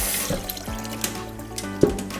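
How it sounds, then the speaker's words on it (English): Cold water runs from a tap over cooked soba noodles in a kitchen sink, a steady splashing stream with a few brief clunks, close and alone without talk. "when I say rinse it, you rinse it with cold water"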